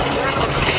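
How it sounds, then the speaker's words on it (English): A 400-horsepower Lycoming-engined aerobatic airplane flies at the North Little Rock air show, including an inverted ribbon cut. Its steady broadband engine roar is brief and fairly loud, with a commentator talking over it. "Skip Stewart, that 400 horsepower Lycoming engine dragging him along"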